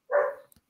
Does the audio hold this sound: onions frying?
no